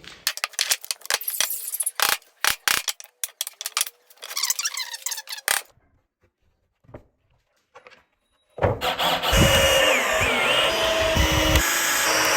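A power drill drives screws into wooden shelf panels: scattered clicks and rattling handling, a near-silent pause, then a loud, sustained whirring burst up close.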